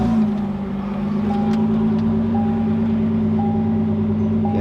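Ford GT press car's engine running at a steady idle after start-up, a constant close drone with a faint intermittent whine over it and no talk.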